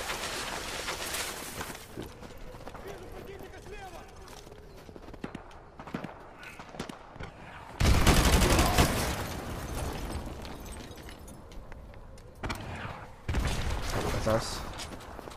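Call of Duty Modern Warfare 2 combat with scattered gunfire and two loud blasts of explosions, set against a lower background of distant battle noise and voices talking.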